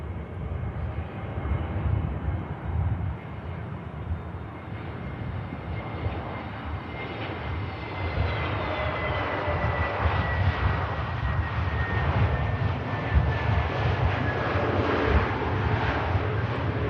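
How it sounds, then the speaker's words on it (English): An Egypt Air airliner touching down at Manchester Airport, with a loud, steady jet engine roar and a high whine that slowly falls in pitch, sustained throughout with no talk. "we just turn the camera around now for the beautiful Egypt Air to touch down"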